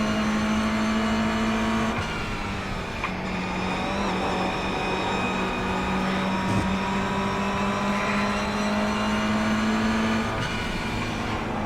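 Production race cars in an iRacing sim race at Lime Rock Park, including a Mazda MX-5, drone with a steady, close engine tone that shifts pitch slightly as the cars run, with no talk.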